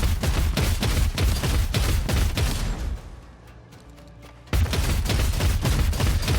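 Heavy bolter fire in the Dark Heresy video game, dense rapid bursts of loud booming shots that stop for a moment before the fusillade resumes.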